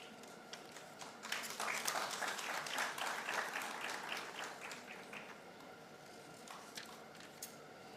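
An audience at a national science quiz competition applauds steadily for several seconds, a dense, moderately distant patter that swells early and then slowly tapers off.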